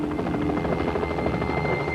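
Loud, continuous rotor thump of a helicopter with an engine whine in remote Papua New Guinea, close by and steady throughout.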